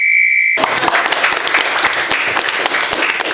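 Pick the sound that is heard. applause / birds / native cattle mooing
applause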